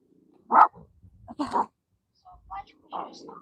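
A dog gives several short barks spaced apart, fairly close and moderately loud, mixed with people speaking.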